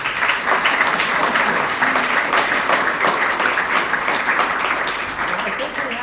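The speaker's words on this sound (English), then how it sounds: "How about another big round of applause for our panel here?" Sustained applause from an audience honoring a panel at a World War commemoration event, a dense steady wash of many hands clapping that holds strong for several seconds before easing slightly.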